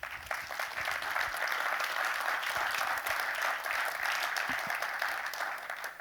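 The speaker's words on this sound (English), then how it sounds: "I think that's worth an applaud," Sustained audience applause fills the room at a geothermal industry roundtable session during a congress, a steady dense wash of clapping hands at moderate loudness with no speech over it.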